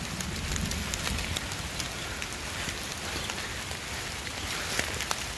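Steady rain patters on foliage and the ground along a mountain trail on Mount Salak, a dense continuous hiss with scattered louder drops, and no talk.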